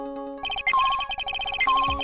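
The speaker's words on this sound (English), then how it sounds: "That's the sound of the metal detector signal bouncing off something metallic." Metal detector beeping in the Phoenix Wright courtroom adventure game, a rapid run of short electronic pulses broken by longer pinging tones, loud and alone with no voices.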